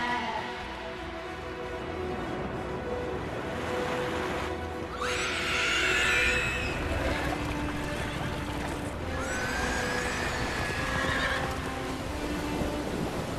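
Horse neighing in the Lego Lord of the Rings video game during the Pass of Caradhras level, two bright whinnies a few seconds apart over game music and effects.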